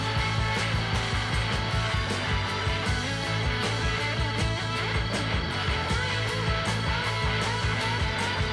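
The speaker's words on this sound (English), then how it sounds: "Get a fresh blade in and you can cut pretty fast with the hacksaw." A hacksaw with a fresh blade cuts metal pieces for a welding cart, fast rhythmic back-and-forth rasping strokes, close and continuous.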